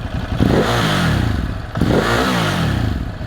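A Ducati Hypermotard 950 RVE engine is revved hard twice, each sharp climb in pitch rising toward redline and falling back, loud and close with no voices.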